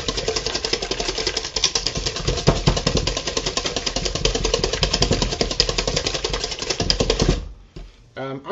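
A stand mixer beats eggnog ingredients, a loud steady mechanical whir with rapid rattling pulses that runs for several seconds before cutting off near the end.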